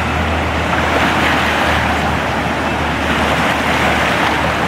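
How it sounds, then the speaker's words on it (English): River rapids surge after a flash flood through a campground, a dense, continuous roar of rushing water over rocks. The sound is loud and close and holds steady throughout, with no voices. "them rapids are something else right there."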